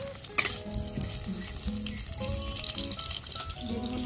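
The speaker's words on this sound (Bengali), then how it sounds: "আলুটা ভেজে নেব" Potatoes frying in hot oil in a wok (kadai) on a clay stove, a continuous close sizzle with a sharp clink near the start and scraping stirring sounds throughout.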